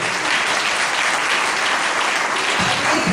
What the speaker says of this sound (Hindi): एक बार जोरदार यीशु मसीह के लिए ताली बजाएंगे।